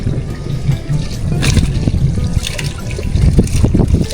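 Water sloshing and trickling steadily as it is poured off from a container of freshly caught catch, a continuous splashing pour at close range with no talk.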